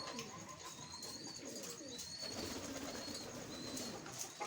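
Pigeon chicks and adults in a loft nest, soft continuous cheeping and cooing chatter with scattered higher chirps, close and steady throughout, no talk.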